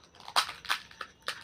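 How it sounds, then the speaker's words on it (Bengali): Crisp fuchka (pani puri) shells snapped open by hand, four sharp dry cracks spaced about a third of a second apart, close and fairly quiet. "ফুচকাগুলো আমি ভেঙে নিলাম।"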